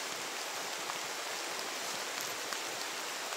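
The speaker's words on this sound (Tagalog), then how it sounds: "Lumakas na yung ulan mga tol." Heavy rain falls steadily, a dense even hiss of downpour throughout with no breaks, fairly soft in level and with no voices.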